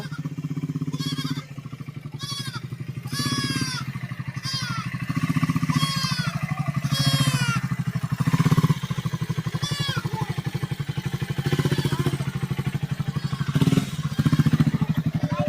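A motorcycle engine idles and chugs continuously on a rough dirt track, close and steady, while people talk and shout over it throughout.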